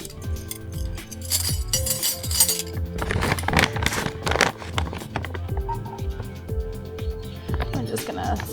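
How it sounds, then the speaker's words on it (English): A measuring spoon stirs dissolving baking soda in a bowl while making slime: quick, close metallic clinks and scrapes against the bowl in a busy rhythm, strongest in the middle, with no talking. "I'm just going to stir that with this measuring spoon here."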